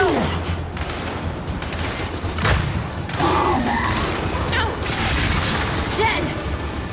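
Frag grenade thrown and exploding in a video game shootout: a loud thud-like blast amid continuous rattling gunfire and mechanical combat noise, with game voices faintly mixed in.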